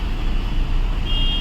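Heavy rush-hour city traffic on a busy road in Panipat during the Diwali festive season, a dense continuous roar of engines with a brief high tone near the end, loud and steady throughout.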